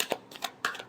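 Tarot cards are shuffled in a quick flurry of three soft papery riffles within a second, close and fairly quiet.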